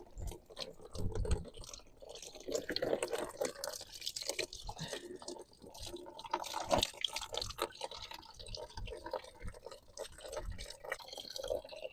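Water leaks heavily from an unplugged reservoir tank, with irregular drips and splashes close by that run continuously and unevenly throughout.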